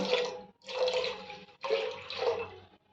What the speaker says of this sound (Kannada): ಈಗ ಹಾಲು ಹಾಕ್ಕೊಳ್ಳೋಣ.